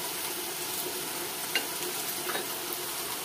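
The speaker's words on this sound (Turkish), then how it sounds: "Şimdi güzel bir kavuruyoruz soğanlarımızı." Chopped onions and garlic sauté in a pan with a soft, steady sizzle and an occasional faint scrape of stirring, quiet and close.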